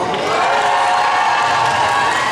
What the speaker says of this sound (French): ils sont prêts à applaudir comme pas possible